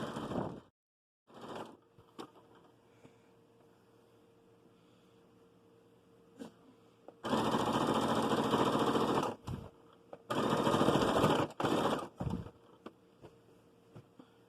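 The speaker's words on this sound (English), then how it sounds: "it is incredibly hard to sew a quilt with a tripod in your viewing space." A sewing machine stitches a rag quilt in two loud, close buzzing runs of a few seconds each, separated by short pauses and preceded by brief clicks and quiet handling noise.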